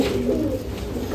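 Pigeons coo in a low, throaty burble, a close, steady murmur of several birds with no talk over it.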